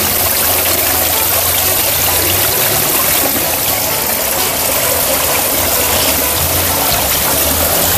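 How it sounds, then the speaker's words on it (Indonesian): Fish waste being siphoned with a hose from a tarp pond stocked with tilapia: a loud, continuous rush and gurgle of water, with a low pump or engine hum underneath, steady throughout and close up. "untuk cara menyedotnya kita menggunakan selang"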